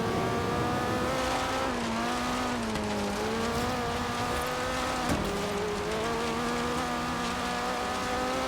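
A Sandman van roars along in the video game Forza Horizon 3, its engine a steady, loud, high whine that dips slightly in pitch and climbs again, with no talking.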